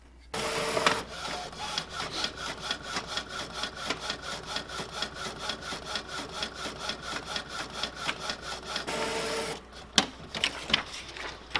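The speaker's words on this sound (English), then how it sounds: "Then I'm going to hit print." A Sawgrass SG800 sublimation printer prints a copy with fast, even mechanical pulses from the moving print head for about nine seconds, then stops with a few scattered clicks and clunks.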